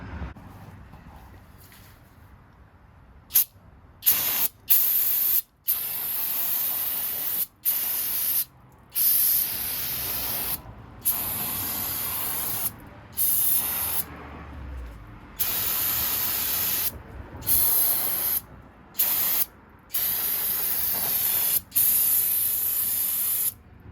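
Brake cleaner sprays onto the rear brakes of a 2004 GTO in a series of loud, close hissing bursts, some long and some short, separated by brief quiet gaps.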